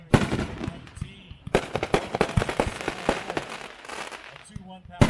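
A 3-inch, 9-shot fireworks cake at a demo booms and crackles in dense, loud bursts, with a pause before a fresh volley of rapid reports and lingering crackle, heard from a moderate distance.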